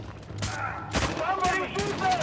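Rapid bursts of gunfire in Uncharted: The Lost Legacy, several sharp close shots in quick succession across a couple of seconds, fairly loud over game ambience.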